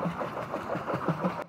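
A boat engine in the Roblox game Brookhaven chugs in a quick, even rhythm at low volume, cutting off abruptly just before the end.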